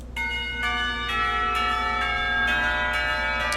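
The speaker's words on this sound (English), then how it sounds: "The ringing of the bell ends our conversation." A bell rings in the Katawa Shoujo visual novel game, several clear resonant strikes in steady succession with long ringing overtones, loud and alone.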